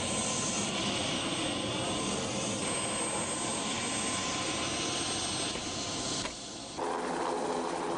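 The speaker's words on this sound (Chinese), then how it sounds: "上了他们的直升机，飞去曼谷的市区" A Thai military helicopter flies over flooded Bangkok, its engine and rotor giving a loud, continuous roar that barely changes throughout, heard without speech.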